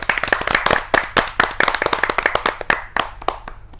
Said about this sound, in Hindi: जोरदार तालियों से उनका अभिनंदन करते हैं